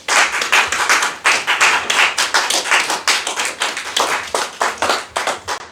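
A church congregation claps together in a steady, brisk rhythm, many hands close and loud, filling the room with no voices.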